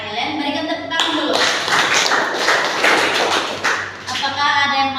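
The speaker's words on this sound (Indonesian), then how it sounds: "Berikan tepuk tangan dulu." Classroom applause during a micro-teaching practice lesson, a burst of clapping from a small group lasting several seconds, steady and fairly close, with a brief lull in the middle.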